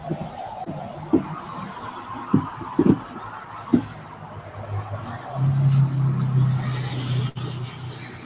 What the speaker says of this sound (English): Traffic headed west toward Buffalo.